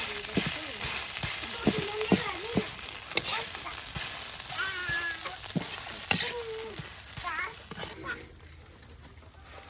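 Taki fish bharta with red chilies being mixed by hand with oil, a soft wet squelching and smearing that comes in repeated strokes, close up, under nearly constant talk, with children's voices in the background.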